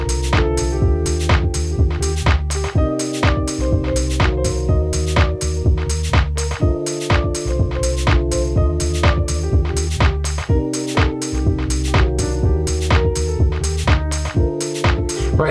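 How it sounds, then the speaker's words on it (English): Piano patch played on a Nord keyboard for deep house, steady chords with a repeating rhythmic pattern, a bass note under it and brief pauses between phrases, loud and close with no talking. "I throw on some random little piano sound like this."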